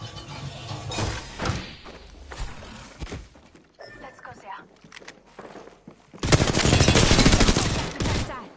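Gunfire in the Apex Legends video game, bursts of rapid shots and thuds, the densest and loudest volley coming near the end, with a player talking between the exchanges.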